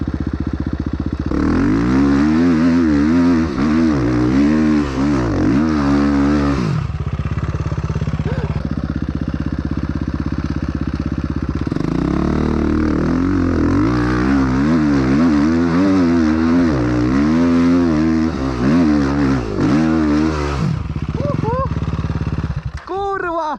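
A dirt bike engine revs loudly and repeatedly, rising and falling in pitch, with a brief lull in the middle before more hard revving.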